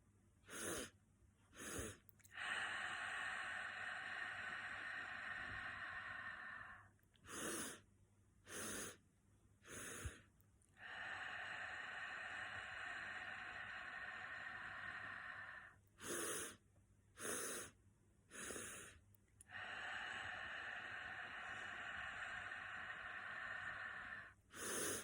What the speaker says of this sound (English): closing your eyes and then 3 sniffs in.